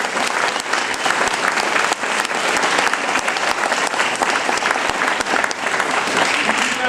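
Audience applause fills the hall after a school winter concert performance, a dense, steady wash of clapping that holds loud and even throughout with a faint murmur of voices mixed in.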